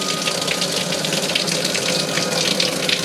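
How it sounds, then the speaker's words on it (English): Water runs from a tap at a client's house at strong pressure, a dense, steady hiss and splash that stays close and loud throughout with no voices over it. "Oh, we got more water pressure."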